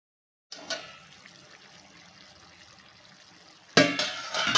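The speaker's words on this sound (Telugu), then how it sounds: "ఇందులో తగినంత వాటర్ వేసి చికెన్ని బాయిల్ చేయండి" Water pours steadily into a pot of masala-coated chicken pieces set to boil, a soft continuous splashing trickle for about three seconds, followed by a louder clatter and rush at the end.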